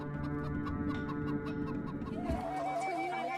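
A domestic chicken clucks in a run of short repeated calls, ending in a rising, drawn-out squawk, close and clear over a low background hum.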